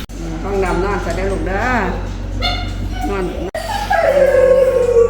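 A dog at a veterinary hospital whimpers and gives high yips and drawn-out whines, close and fairly loud, with people talking around it.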